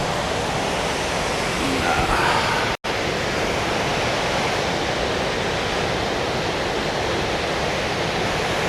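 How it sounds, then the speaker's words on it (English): A waterfall on a muddy outdoor walk roars as steady, dense broadband rushing water, loud and close, with one very brief dropout partway through and no talking. "there's the waterfall. It's messing heavily with the sound"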